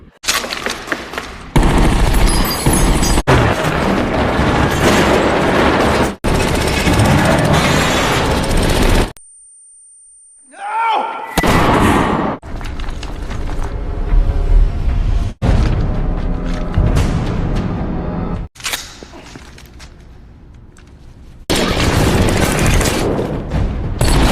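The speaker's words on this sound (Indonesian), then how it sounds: "Doc yang tadinya tidak mau menembak polisi akhirnya mulai menembak" Gunfire in a film shootout from The Town (2010), bank robbers trading fire with police; loud, dense bursts of automatic fire and heavy booming shots in long stretches, with a brief quiet gap and sharp echoing cracks between volleys.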